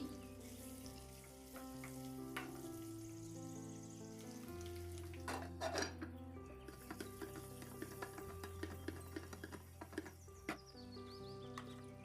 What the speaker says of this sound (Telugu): అందులోకి ఆయిల్ వేసి పసుపు, ఉప్పు, కారం వేసి ఇందులోకి గుడ్లను వేసి బాగా వేపుకోవాలి